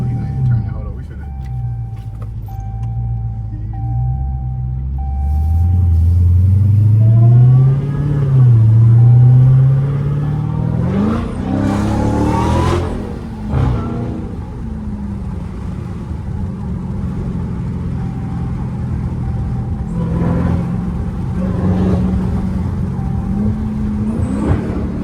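A Dodge Hellcat engine with a newly installed loud aftermarket exhaust revs up loudly several times with a throaty roar, then settles to a rumbling idle while people talk nearby.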